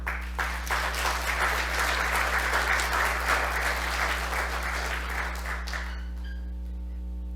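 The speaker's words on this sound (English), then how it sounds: "I'm glad you gave her a round of applause" An audience gives a round of applause at a launch event. The steady, dense clapping is loud and continuous for about six seconds, then drops away abruptly into a quiet room hum.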